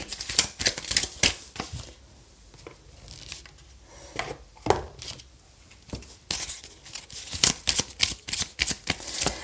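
A Petit Lenormand card deck being shuffled by hand, close crisp riffling bursts repeated in uneven clusters with short pauses between them.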